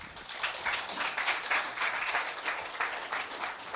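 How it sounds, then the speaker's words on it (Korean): Steady applause from a crowd at a university engineering seminar, a dense wash of many hands clapping at even loudness throughout, with no one speaking. "여러분 박수로 오늘 세미나를 청해하겠습니다"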